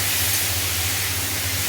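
Potatoes frying in a pan on a home stove, a loud, dense and unbroken sizzling hiss for a brief moment.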